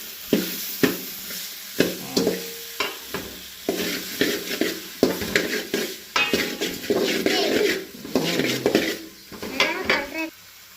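Food for fish curry sizzles in a hot pan while a spoon scrapes and stirs against the metal in repeated strokes, close and fairly loud.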